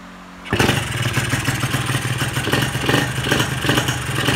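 A motorcycle engine with a carburettor pilot jet being tuned catches after a brief quiet moment and settles into a loud, close, steady idle with a rough pulsing chug.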